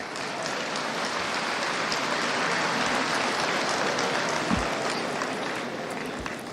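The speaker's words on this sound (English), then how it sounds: "A resounding round of applause for ICAN." Sustained applause from a large audience at the 53rd annual accountants' conference honoring ICAN, a dense, even roar of clapping that holds steady throughout.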